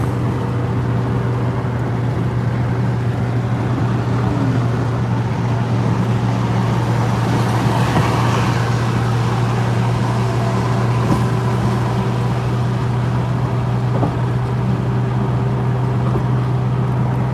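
A DeLorean time machine car on the move, with a loud, steady engine drone and road rumble from inside the cabin running unbroken throughout, a low hum dominating and no voices.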